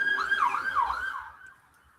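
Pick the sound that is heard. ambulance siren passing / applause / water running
ambulance siren passing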